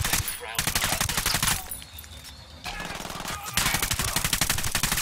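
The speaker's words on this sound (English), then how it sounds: "And as usual, you get vehicles with miniguns on them. And that is an actual minigun." A vehicle-mounted minigun in Ghost Recon Wildlands fires in long, rapid, loud bursts, broken by short pauses and a brief quieter lull before the sustained buzzing fire resumes.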